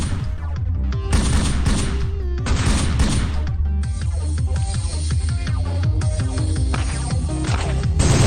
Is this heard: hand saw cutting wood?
no